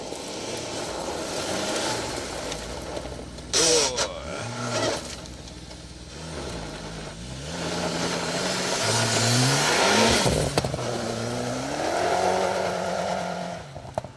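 A Ford Sierra Sapphire rally car slides sideways through a forest stage, its engine revving hard and rising and falling through the gears as it passes close by, loud and alone.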